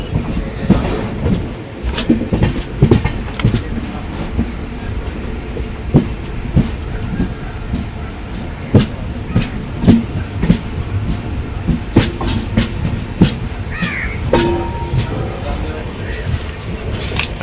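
The Duronto Express rolls into Mangaluru Junction in the early morning. A steady heavy rumble carries rhythmic wheel clacks and gusting wind buffeting the microphone, loud and close for the whole stretch.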